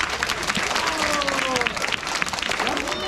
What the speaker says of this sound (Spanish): Desen un aplauso a ustedes.